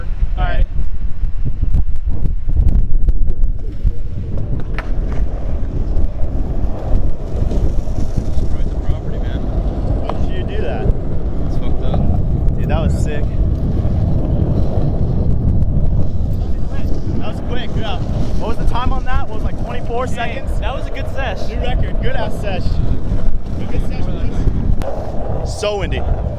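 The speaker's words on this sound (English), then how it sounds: "So windy." Strong wind buffets the microphone in a steady, loud roar that persists throughout, with occasional louder gusts and some voices in the background.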